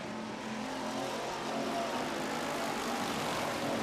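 Street stock race cars circle a wet, greasy dirt track, their engines a distant, steady drone under broad hiss that swells a little toward the end.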